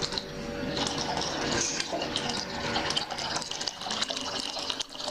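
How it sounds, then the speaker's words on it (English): Hot water poured into a measuring bucket that already holds cold water, giving a steady, close gushing and splashing fill that runs continuously with no talking. "So I'm adding the hot water to it to make it very hot."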